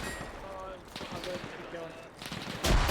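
A war video game fight set on Raate Road, with gunfire and explosions in dense, rolling bursts and a louder blast near the end. Voices talk over the fighting.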